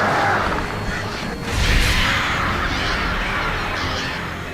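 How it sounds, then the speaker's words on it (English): Crows caw harshly in the Alan Wake video game, several loud overlapping calls in a noisy burst with a sharp thwack near the middle, the cawing continuing and fading slightly toward the end. "Stupid birds."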